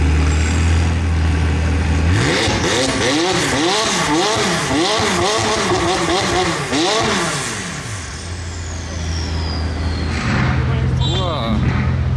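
Supercars rev hard at the start of the Modball Rally on a street, engines rising and falling in repeated loud sweeps, then a car roars off and fades as another idles nearby; people talk over the noise.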